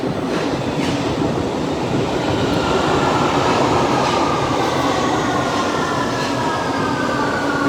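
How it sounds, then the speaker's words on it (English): A train rumbles steadily past close by, a loud continuous roar of rolling wheels and carriages with faint squealing overtones and no voices. "So there's another train making its way."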